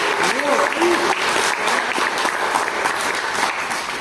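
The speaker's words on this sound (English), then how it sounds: "So I would like a big round of applause for all the volunteers." A crowd at an MoU signing ceremony applauds volunteers. The clapping is loud, sustained and close throughout, with a few voices calling out early on.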